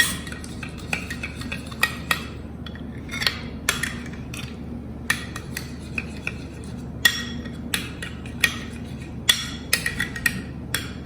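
Spoon mixing a curd mayonnaise dip for potato wedges in a bowl, repeated close clinks and scrapes of metal against the dish in an uneven stirring rhythm, with no talking.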